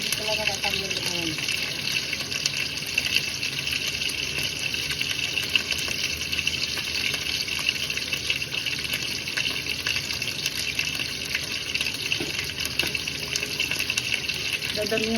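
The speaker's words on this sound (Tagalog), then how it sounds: "dadamihan ko siya ng tubig" Water pours steadily into a rice cooker pot as a continuous gushing stream, with someone speaking over it.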